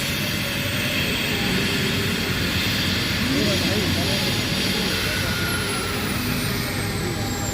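A helicopter landing at Namti with its rotor running makes a loud, steady broadband roar that holds for the whole stretch, with faint voices mixed underneath.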